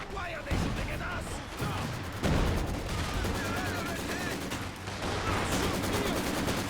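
Video game gunfire aimed at the player, sustained bursts of shots under steady background sound, with a voice talking over parts of it.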